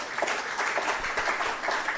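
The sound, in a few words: audience applause at an opening ceremony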